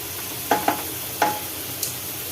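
Capsicum rice spice powder is stirred in a hot pan, with a soft continuous sizzle and a few quick scraping knocks of the spoon, close and with no talk.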